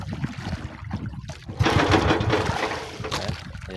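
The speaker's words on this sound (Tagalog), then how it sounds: "Sinusubukan po ni Kyoto yung mga idol na bandarin yung makina natin." A small boat engine is cranked over and over but fails to start, giving rough, uneven bursts of mechanical turning close up, with faint background noise between the attempts.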